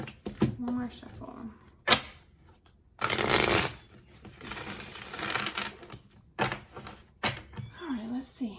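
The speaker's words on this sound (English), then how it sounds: "One more shuffle." Tarot cards are shuffled in a few loud riffling bursts close up, mixed with thumps and taps, while a person speaks between them.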